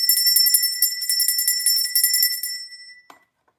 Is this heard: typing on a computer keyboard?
no